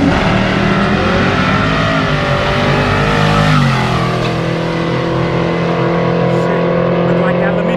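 Motor Mustang minibikes race at a holeshot street event, their small engines revving hard and droning loudly and steadily as they pass close by.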